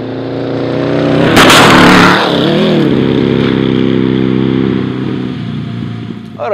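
A vehicle revs and rumbles while bumping through a fence in the game Mobile Strike, a loud, close engine drone with a harsh crunching burst early on, then steady motor noise that fades out.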